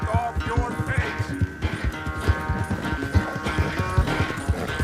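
Horse hooves clip-clopping in a steady galloping rhythm during a race against Dutch in Red Dead Redemption 2, close and continuous over a bed of game music, with no talk.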